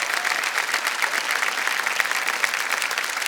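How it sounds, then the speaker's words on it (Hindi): A TV quiz show studio audience applauds a winning contestant with even, sustained clapping at a steady moderate level throughout. "तालियां बज जाने चाहिए क्योंकि चेक आ रहा है इनके नाम।"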